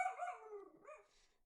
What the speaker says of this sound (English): Sorry, he's barking.